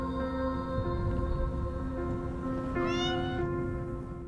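A cat meowing in the video game Copycat, a single drawn-out rising meow standing out over a steady background hum of game music, fairly close and clear.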